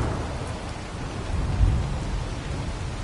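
Rain hisses steadily across a stormy scene in the video game Ark, with a low rumble of thunder swelling briefly midway under the constant downpour.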